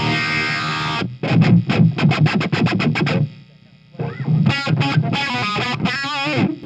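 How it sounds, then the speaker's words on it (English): An electric guitar runs through a Source Audio Spectrum envelope filter pedal, giving a distorted, quacky tone to rapid repeated picked notes, then a short pause and more filtered, sweeping phrases, close and loud. "it goes to the Source Audio Spectrum, which is like a filter pedal"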